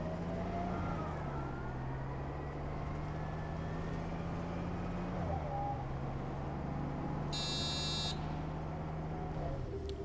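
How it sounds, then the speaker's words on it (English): A bus engine in the OMSI 2 bus simulator video game idles and drones steadily, its pitch shifting slightly as it revs, with a short electronic buzzer tone sounding near the end under faint background noise. "Not that I've been on a bus recently, but I bet they don't sound this good now."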